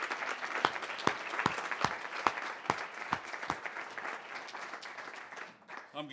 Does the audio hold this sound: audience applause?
yes